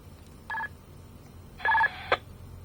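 Two short bursts of dual-tone DTMF keypad beeps from a SPENDER TC-245PMR PLUS radio transceiver, the second longer, followed by a brief click, against a quiet background.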